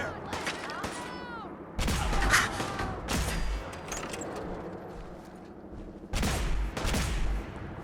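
Gunfire erupts in Fallout 4 in sharp, loud bursts of several rapid shots, separated by quieter stretches, with a voice talking between volleys.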